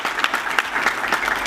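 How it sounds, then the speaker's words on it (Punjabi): Strong audience applause at a Sikh commemoration event for the Saragarhi battle martyrs, honouring children who took part, with dense steady clapping throughout and no talk. "ਜ਼ੋਰਦਾਰ ਤਾੜੀਆਂ ਹੋ ਜਾਣ ਜੀ ਇਹਨਾਂ ਦੇ ਨਾਂ 'ਤੇ ਇੱਕ ਵਾਰੀ ਫੇਰ"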